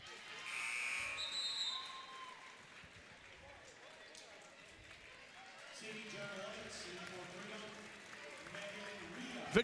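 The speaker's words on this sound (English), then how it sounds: "Vickman comes out, nice hand from the crowd." A crowd applauds at a D3 championship basketball game between Wrightstown and Freedom. A diffuse wash of clapping and cheering with a few shrill squeaks sits under a commentator's steady talk and gradually settles into arena murmur.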